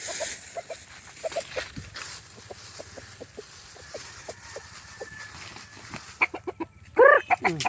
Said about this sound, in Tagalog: Ayan, nandito yung manok ni Krishna